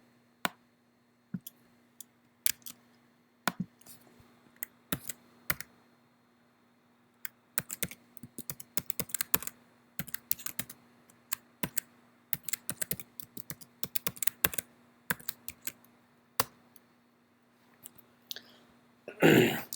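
Someone types a new password on a computer keyboard, with sparse isolated key taps at first, then bursts of quick clicking keystrokes, close and clear against a quiet room with a faint steady hum.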